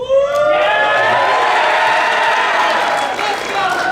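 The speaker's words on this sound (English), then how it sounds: "who we're all going to cheer for." A loud, sustained roar of crowd cheering at a marching band concert, with whoops and shouts running continuously over the full stretch.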